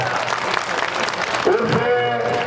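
A crowd at a religious yajna gathering claps steadily, a dense patter of hands that runs throughout, while a voice speaks over it toward the end.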